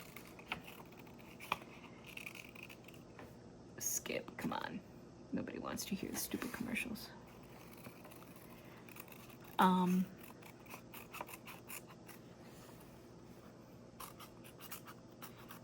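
Scissors snipping paper for a fall-themed zine journal, a few short crisp cutting bursts close by amid rustling and small handling clicks, with a person speaking briefly nearby.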